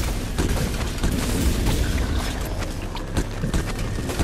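Rapid gunfire and booming blasts from a Halloween event in a shooter video game, loud and continuous with dense overlapping shots and explosions throughout.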